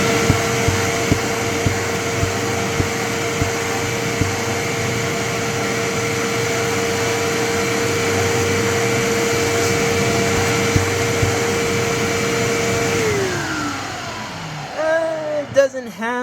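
A Hoover Windtunnel bagless vacuum cleaner runs with its hose removed for a suction test, a loud steady whine and rushing airflow with faint clicks, then the motor pitch drops as it winds down, ending in brief rumbles.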